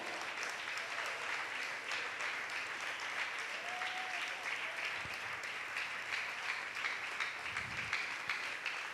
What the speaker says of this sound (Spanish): ¿Cuántos pueden darle un fuerte aplauso al Señor?